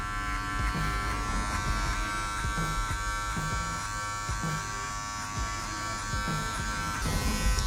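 Wahl Magic Clip hair clippers with the taper lever fully open hum continuously and close up during a high fade haircut, a steady electric buzz with faint snips and handling underneath.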